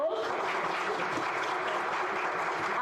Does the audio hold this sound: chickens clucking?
no